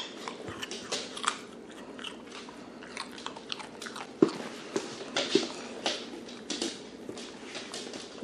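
An animal bites and chews a carrot up close, giving a string of crisp crunches and wet chewing sounds at an uneven rhythm, fairly quiet and with no talking.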